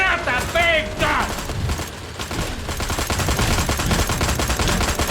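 A big gun fires in the video game Destroy All Humans, a loud, dense rapid-fire barrage that runs almost nonstop after a brief voice at the start.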